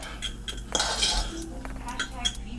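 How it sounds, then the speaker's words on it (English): A utensil scrapes and clinks against a pot while fluffing freshly cooked rice, a few light metallic taps and stirring scrapes close by over a low kitchen hum. "we're gonna take our rice. We're just gonna fluff it up."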